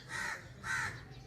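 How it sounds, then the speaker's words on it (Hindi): A crow caws twice outdoors under a lightly cloudy sky, two harsh, fairly faint calls about half a second apart. "इधर एक कौवा बोल रहा है"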